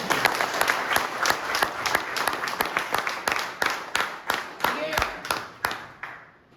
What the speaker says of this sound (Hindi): और कौन यहाँ बताइए, जोरदार ताली हो जाएगा।